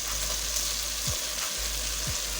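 Masala spices frying in oil with tomatoes in a pan, a steady close sizzle with a couple of soft stirring scrapes.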